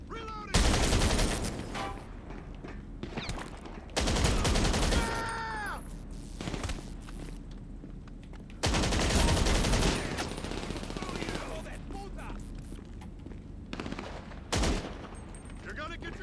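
Bursts of automatic gunfire from GTA 5 Online erupt in loud, close volleys separated by quieter stretches, with shouted game voices and scattered shots between.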